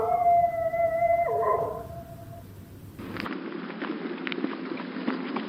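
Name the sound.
dog howling in radio drama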